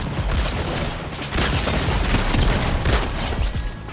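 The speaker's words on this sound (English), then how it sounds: "A player rolled up, but was not fooled and started shooting." Gunfire from a player shooting in a Fortnite-style video game match, a dense, loud burst of rapid shots and impacts filling the whole few seconds with no talk.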